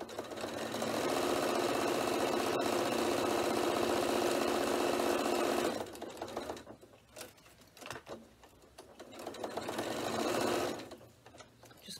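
A sewing machine stitches a bag, running in a long steady buzzing burst for several seconds, pausing briefly, then stitching again in a shorter run before stopping.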